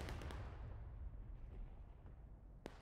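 Artillery cannon in the Civil War game War of Rights booming once at the start, then a long rumbling decay at a distance, with a faint second pop near the end.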